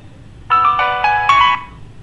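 A GSM modem rings after its number is dialed, a bright electronic ringtone of a few quick stepped tones lasting about a second, close and clear over a quiet background.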